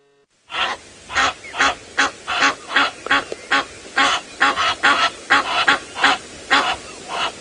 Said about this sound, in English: With some Egyptian geese.